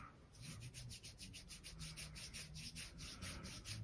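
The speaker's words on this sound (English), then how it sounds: "I'm just going to rub it up and down" Sponge rubbing conditioner up and down a leather strap, soft, close, repeated swishing strokes in an even back-and-forth rhythm, faint and alone in a quiet room.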